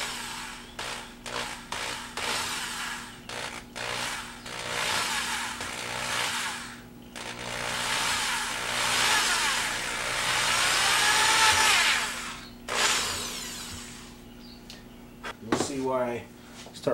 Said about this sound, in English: I start with a really small drill bit, really small, just so I know I can get a